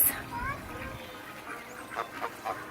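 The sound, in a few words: ducks quacking at a farm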